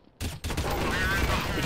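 Gunfire in the video game Counter-Strike, on the Inferno map, where a sudden sharp shot is followed by a second burst and a ringing tail, loud and close, with a voice briefly under it.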